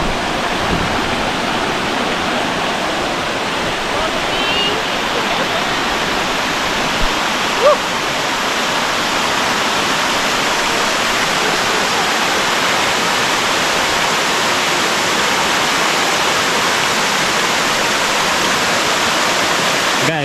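A hidden waterfall roars in the outdoors as a loud, steady, unbroken rush of falling water that fills the whole scene, with no voices standing out.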